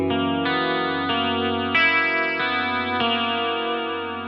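An electric guitar in its in-between Strat-style pickup positions plays sustained, ringing chords through an effects unit with chorus and light distortion. Each chord is struck anew every second or so, loud and close with no voices.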